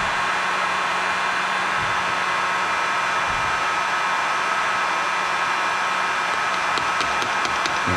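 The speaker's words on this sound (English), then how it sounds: "Give that a little blast of heat." A heat gun blows hot air over a freshly powder-painted fishing jig, a loud, steady, close rushing roar that continues without a break, with faint ticks near the end.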